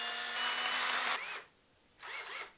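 A cordless drill whirs in two bursts: a longer, steady high-pitched spin that winds down, then a shorter run after a brief pause, close and loud with no talking.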